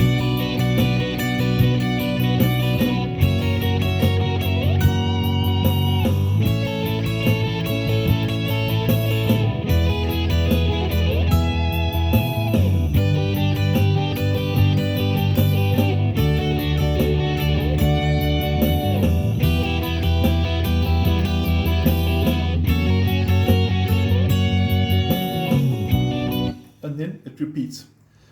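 Electric guitar plays a harmony line over a full backing track with drums and bass, a loud, continuous melodic passage with sustained lead notes that cuts off abruptly near the end.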